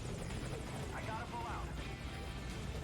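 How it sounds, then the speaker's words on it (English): A helicopter in the video game Metal Gear Solid V: Ground Zeroes roars with a steady, dense rotor drone throughout, loud and continuous, while a voice speaks over it. "we're just gonna hop on the chopper and ride off to the last score screen."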